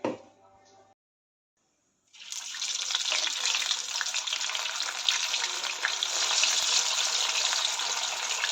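Sabudana vadas frying in hot oil, a steady broadband hiss that starts after a brief quiet gap and continues evenly, fairly close and alone without talk.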